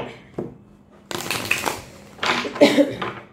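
Tarot cards riffled and shuffled by hand during a reading, with a soft flick at the start and two longer, close crackling bursts of card noise that swell toward the end.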